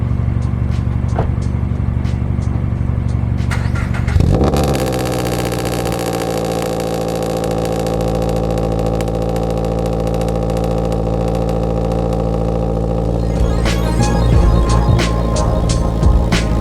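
A 2022 Subaru BRZ/GR86 engine cranks and catches, flaring loudly on startup before settling into a steady, throaty idle up close, with a brief rise in revs near the end and no one talking.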